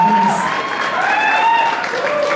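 An audience at a concert at Ancienne Belgique applauds steadily, a dense wash of clapping with a few whoops and cheers mixed in, loud and sustained throughout.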